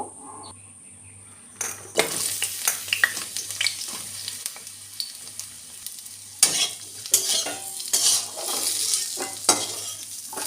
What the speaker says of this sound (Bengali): প্রথমে পটল আলু ভেজে নেব